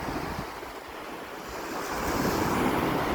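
Sea waves wash steadily onto a beach at a Kuwait chalet, a broad continuous surf roar with wind buffeting the microphone, swelling louder toward the end with no talk.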